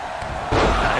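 Wrestler knocked flat onto the ring mat by a clothesline at a live wrestling event, one sudden heavy thud halfway through, followed by ringing crowd noise.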